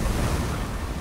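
Ocean waves surge and wash steadily on an endless open sea around a tiny boat, a continuous loud rushing surf with wind noise and no pauses.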